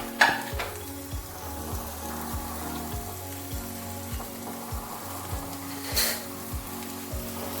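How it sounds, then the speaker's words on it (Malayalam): Ginger, garlic, green chillies and curry leaves sautéing in hot oil for an anchovy and mango thoran, a steady close sizzle with repeated rhythmic scrapes of a spoon stirring the pan. "ഇത്രയും ഇട്ട് ആദ്യം നമുക്ക് വഴറ്റാം."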